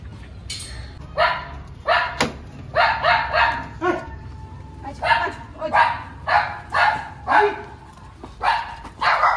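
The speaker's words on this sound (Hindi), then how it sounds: "अभी हमें बहुत कुत्ता भौंकेगा गाइस" Dogs bark repeatedly in quick, loud bursts nearby, a steady rhythm of barking that runs throughout.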